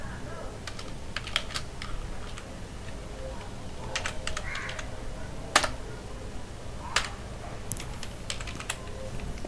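Irregular, quiet keystrokes click on a computer keyboard while someone types code, with a few louder taps standing out against a faint background hum.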